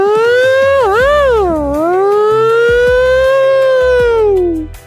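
A voice imitates a wailing civil defense siren alone, loud and close, with a long rising and falling tone that dips twice early on and then glides slowly down before stopping.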